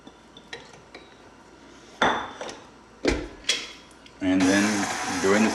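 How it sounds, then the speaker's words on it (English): Cheddar cheese is worked into bread dough for garlic pepper cheddar bread in a bowl. Several sharp, close clanks of a utensil against the bowl lead into a sustained rough scraping of mixing. "And mixing it up and allowing the cheese to be incorporated into the dough."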